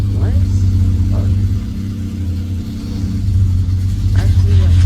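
A Dodge Charger in the Driving Empire game idles with a deep steady engine rumble and slight swells of revving, while a voice chats over it.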